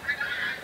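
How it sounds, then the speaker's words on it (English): A goose honks nearby at a Norfolk campsite in the evening, giving a short, clear, nasal call with no talk over it. "Oh, there's some geese here."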